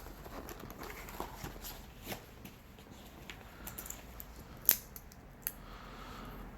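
Scissors snip cotton wick for a vape coil in a few quiet, scattered cuts, with one sharper snip standing out near the end over a soft background hiss.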